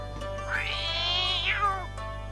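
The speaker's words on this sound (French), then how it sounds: "Ok, sympa le chat." A cat meows once in a long, drawn-out cry inside the Pink Panther video game set in China, standing alone over a steady low background hum.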